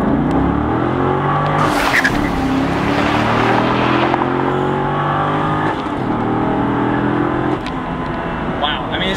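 A Corvette C6 coupe engine revs hard and climbs through several manual gears, pitch rising and dropping with each shift, loud and close, with speech mixed in.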